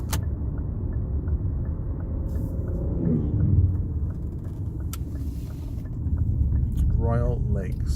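A car drives along through a residential subdivision, giving a steady low road rumble and engine drone from inside the cabin, with a person talking over it now and then.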